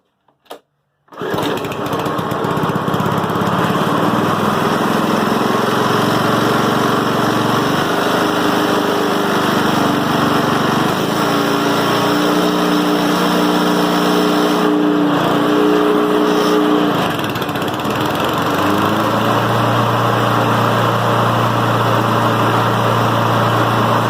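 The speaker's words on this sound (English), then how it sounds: "We check and make sure the clutch engages and spins the blades, and that we make sure that the drive system kicks in when it should." A Honda Harmony lawn mower engine starts after a couple of brief clicks and runs steadily and loudly with the blades spinning, its drone shifting slightly in pitch midway and holding throughout without speech.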